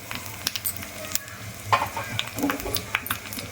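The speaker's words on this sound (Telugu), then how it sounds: "పోపు ఇట్లా కలుపుకుంటే మంచిగా ఈవెన్గా" Tempering spices with curry leaves and turmeric sizzle in hot oil while being stirred in a pan, with scraping stirs and steady frying crackle at close range.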